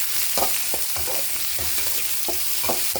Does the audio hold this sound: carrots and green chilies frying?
yes